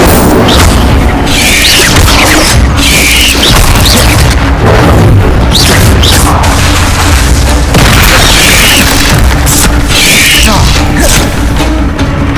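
Incendio fire spell blasts go off in Hogwarts Legacy amid spider and troll combat: loud, dense booming and crashing bursts repeat throughout, saturated and close, with battle effects layered on top.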